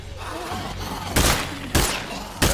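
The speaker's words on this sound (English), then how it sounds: "Bro, stop shooting that loud gun." Loud gunshots from a firearm in the State of Decay 2 zombie survival game, three sharp blasts spaced about half a second to a second apart over a steady low game background.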